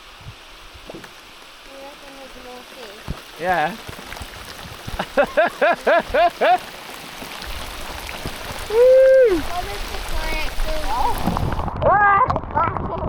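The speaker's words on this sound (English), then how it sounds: "That's some heavy rain." Heavy rain pours steadily over a boat out fishing, a dense continuous hiss that lasts throughout while people talk and shout over it.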